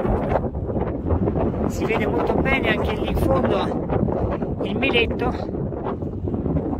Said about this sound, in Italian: Sempre vento, chissà quello che cosa vi arriva.